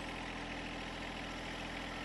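A John Deere compact tractor engine idles steadily and low without change, a constant rumbling drone with no speech over it.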